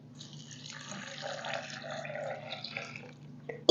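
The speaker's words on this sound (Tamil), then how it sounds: "தண்ணியை ஊற்றி அலசி தண்ணியை கீழே ஊற்றிட்டு" Water pours and sloshes steadily in a container of rice flakes being rinsed for a few seconds, close by, ending with a small knock.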